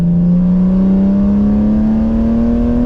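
A BMW E46 M3's S54 engine and exhaust rev steadily upward, loud and close, with a deep droning tone that rises in pitch throughout.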